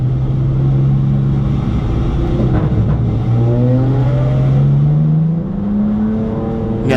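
BMW M4 GT4 factory race car on Hoosier TrackAttack Pro street tires, engine droning loud and steady with rising pitch through the gears, a brief shift dip near the middle, no talking.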